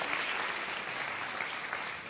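A church congregation applauding during a sermon on tithes and offerings, dense continuous clapping that stays even and fairly loud for a couple of seconds without voices.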